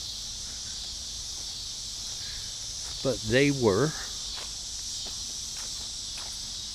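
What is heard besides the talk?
cicadas buzzing outdoors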